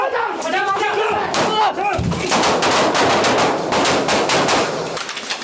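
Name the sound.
gunfire during police shootout with armed suspect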